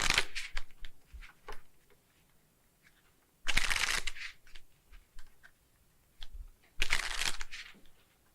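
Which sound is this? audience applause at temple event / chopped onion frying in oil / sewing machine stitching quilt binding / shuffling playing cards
shuffling playing cards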